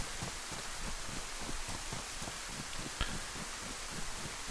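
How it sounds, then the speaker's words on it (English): Steady hiss of rain falling in the DayZ game, a dense, even patter with faint rhythmic footstep-like thumps underneath and no talking. "The rain is crazy lethal, Black Yeti."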